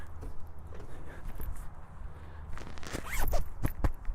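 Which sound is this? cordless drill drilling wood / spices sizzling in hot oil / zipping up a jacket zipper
zipping up a jacket zipper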